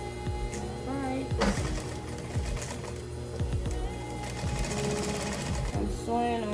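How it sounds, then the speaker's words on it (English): A sewing machine runs in rapid bursts, stitching a quarter-inch seam, its needle chatter steady and close with brief pauses, while a person talks over it. "I'm sewing on 1/4 of an inch."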